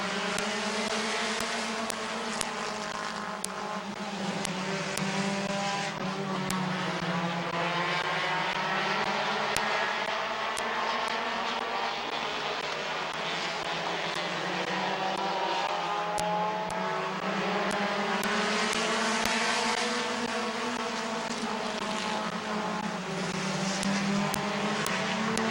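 Race cars roaring together at Midvale Speedway, a loud, sustained engine drone with rising and falling pitch as the pack passes, continuous throughout with no talk.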